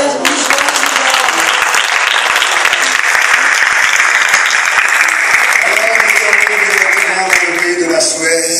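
Loud, sustained applause from a large audience at a Christian conference in Europe, a dense wash of clapping that holds steady throughout with a crowd murmur under it.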